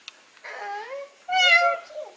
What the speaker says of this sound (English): You found a kitty in our house?